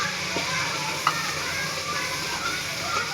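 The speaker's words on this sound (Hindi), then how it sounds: "मसाले को हम अच्छी तरह भूनेंगे" Ground spices sizzle steadily in hot oil for a potato pakora curry, with a soft continuous hiss and occasional stirring clinks close by.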